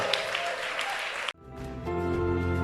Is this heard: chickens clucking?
no